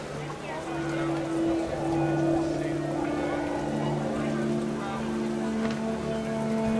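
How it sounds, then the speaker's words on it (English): Rain pouring down in the video game What Remains of Edith Finch, a steady wash of falling water under a low drone and tonal game music, with a person speaking over it. "The rain came down in buckets then"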